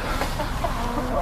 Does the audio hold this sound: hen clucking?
yes